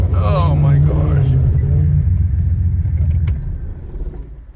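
A rough-sounding BMW E34 rolls along with a low, steady engine and road rumble inside the cabin, partly under excited talking, easing off toward the end.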